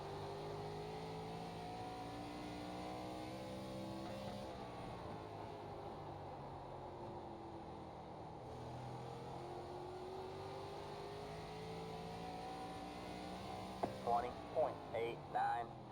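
An ARCA stock car in iRacing lapping Lakeland Speedway, its engine droning steadily at high revs with gentle pitch swells through the turns, a few short bursts near the end, and someone talking over it.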